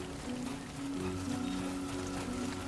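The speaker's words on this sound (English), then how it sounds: "Άρχισε να βρέχει." Rain falling in the video game Death Stranding 2, a faint steady hiss of drops over a low droning background hum.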